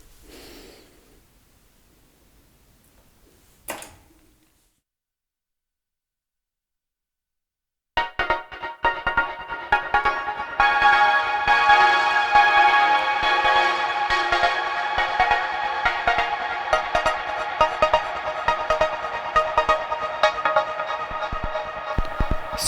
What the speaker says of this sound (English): So now you hear the vinyl into the quadranted swarm.